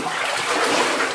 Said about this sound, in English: It sounds like water hitting something.